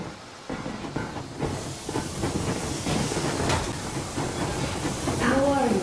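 A steam train in the Metro Exodus video game hisses loudly at full steam, a dense continuous rush with rumbling wheels and clatter underneath, building slightly toward the end where a brief tonal whistle-like sweep appears.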